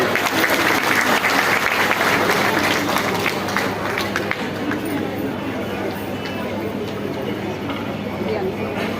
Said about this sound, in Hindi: स्वागत और अभिनंदन है सर, कृपया स्थान पर करें, जोरदार तालियां।